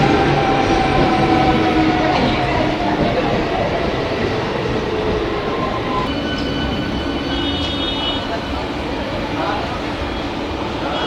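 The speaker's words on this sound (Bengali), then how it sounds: "আমাদের ট্রেন, আর এই ট্রেনে করেই আজকে আমরা যাব হাওড়া।" A train bound for Howrah rolls along the rails with a loud, steady rumble and wheel clatter, humming and rattling continuously throughout, with a few brief tonal whines rising near the end.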